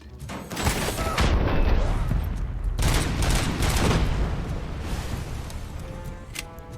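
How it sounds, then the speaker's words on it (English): Dense gunfire in the video game Robocop: Rogue City, rapid overlapping shots and booms in a sustained loud barrage while enemies with grenades are shot down. "I'm shooting these guys before their grenades go off."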